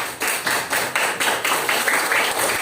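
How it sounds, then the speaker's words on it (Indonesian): A classroom of students claps for a classmate, a dense burst of fast, loud applause with rhythmic surges, heard close and without talk. "Ya, tepuk tangan buat Badai."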